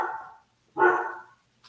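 Biscuit, a dog, lets out two barks about three quarters of a second apart, the second fuller and louder, then a tiny faint yelp, heard close with no speech.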